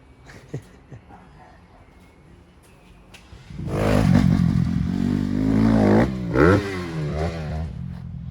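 A motorbike engine kicks in after a few quiet seconds, then revs and roars loudly up close, its pitch rising and falling as it rides.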